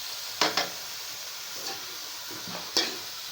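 Jicama (singkamas) being sautéed in a pan for vegetable lumpia, with a few short bursts of stirring and sizzling over a soft steady hiss, close and fairly quiet.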